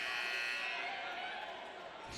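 Arena buzzer at a high school basketball semifinal ends the third quarter, a loud sustained electronic tone with bright harmonic bands holding for about two seconds over crowd noise.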